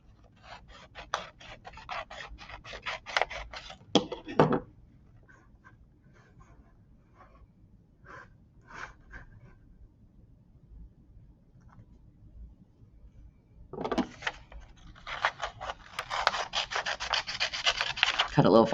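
Scissors cut through a paper meter strip in short bursts of rapid snipping and rustling, close and distinct, with a quieter pause between the two cutting runs.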